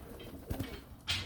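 A male pigeon gives a brief, low coo, faint and close, with a soft rustle and a sharper noise near the end.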